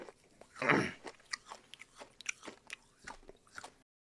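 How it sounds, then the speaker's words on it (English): Loud, close open-mouthed chewing straight into a microphone, wet crunching bites and smacking lips repeating in an irregular rhythm for several seconds, with no talking. "He's just chewing with his lips open straight into the mic."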